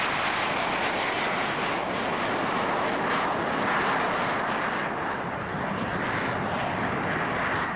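Aircraft of the Frecce Tricolori team roar down the runway in a formation takeoff at an air show, giving a steady, loud, broad engine rush that holds throughout.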